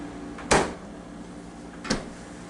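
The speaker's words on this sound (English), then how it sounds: "Shut the doors." Doors of a Frigidaire FFTR1713LWE refrigerator under repair are shut, two distinct thuds about a second and a half apart, the first louder, over a low steady background hum.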